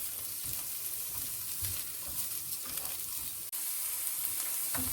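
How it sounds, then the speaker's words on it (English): Vegetables for a chicken quesadilla filling are stir-fried in a pan. A constant sizzle runs under low scraping and stirring thumps, with one sharp click near the end. "We're just going to stir fry it for a few minutes till they become soft."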